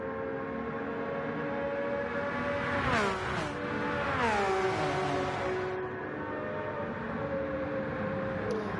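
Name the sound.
Porsche and McLaren F1 race cars in Gran Turismo video game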